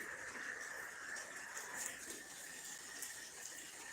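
Heavy rain pouring down at the start of a storm in Tennessee, a steady hiss of falling water, fairly faint and unbroken, with a brief patter of drops.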